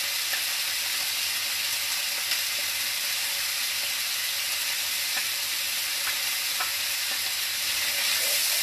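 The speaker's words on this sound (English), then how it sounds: "So I'm just cooking down the onion with some bacon at the moment." Onion and bacon cooking down in a pan, a steady, close sizzle and crackle of frying fat with small pops scattered throughout, no voices over it.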